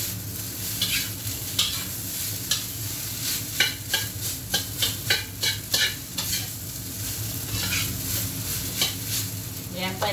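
Food being stirred and frying in a hot, smoking wok, with a steady sizzle throughout and a series of sharp scraping stirs clustered through the middle; no voices.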